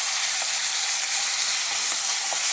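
Pork stir-frying in a pan over high flame, a dense, even sizzle close up with faint clicks of turning and stirring beneath it.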